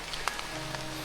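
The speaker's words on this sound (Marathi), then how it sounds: "आमची मोहीम चालली आहे खूप जोरात, आणि पाऊस पण यायला लागला" Rain falls steadily on leaves in a dense Sahyadri forest along a hiking trail, a close, even hiss with a few distinct drops tapping nearby.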